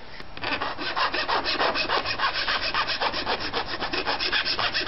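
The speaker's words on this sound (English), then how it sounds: "The last step before we insert the butterfly dovetail is to file a slight taper on all of the edges." A hand file rasps quickly and rhythmically against the edges of a wooden butterfly dovetail key, tapering them in close, loud, evenly paced strokes.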